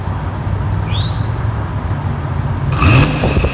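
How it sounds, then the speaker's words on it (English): Jeep XJ Cherokee fan motor running on a test hookup, a steady low hum that surges and rises in pitch as the motor spins up near the end, with a faint bird chirp in the background. "So that motor is working."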